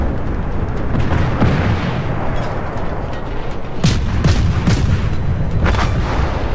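Destroyer deck guns firing rounds in World of Warships from the Clemson, a series of sharp booming shots over a dense rumbling battle din, with several distinct reports clustered near the end.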